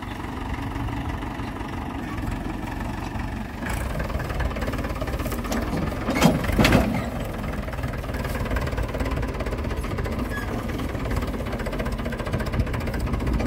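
A Mahindra 475 DI tractor engine chugs steadily at idle, a low continuous knocking rumble that stays fairly even, with a brief louder burst partway through.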